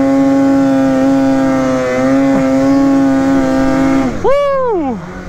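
A 2021 Polaris Matryx Assault 146 snowmobile engine drones loud and close at a steady pitch, then revs sharply and swoops down as the sled wheelies through snow drifts, with no speech over it.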